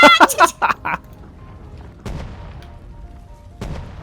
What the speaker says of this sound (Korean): 저 대포한테 맞으면 밀려나니까 조심해야 돼